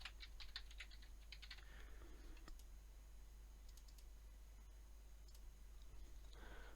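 Computer keyboard typing in bursts of quick, light clicks near the start, then sparse scattered taps over steady quiet room noise.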